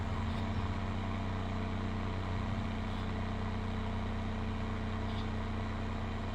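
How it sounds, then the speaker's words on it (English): Tractor engine in a farming video game, speed-limited to 18 mph, droning steadily at a low, even pitch throughout, fairly quiet and uninterrupted, with no one speaking. "tractor is limited to 18 mile an hour"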